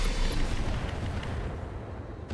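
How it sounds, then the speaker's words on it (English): Ammunition explosion in the mech combat game RogueTech, a loud, dense burst of rumbling blast noise that fades steadily over a couple of seconds. "Ammo explosion."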